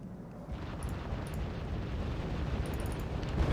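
Mortars blown up in Wargame Red Dragon, a sustained deep rumbling explosion that swells and holds, with faint high crackles on top.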